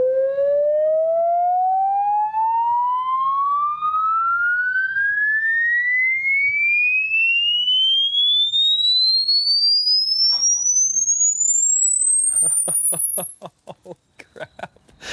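A pure test tone from a Harbinger V2410 powered speaker sweeps steadily upward in pitch from 50 hertz to very high, loud and continuous, with faint clicking near the end.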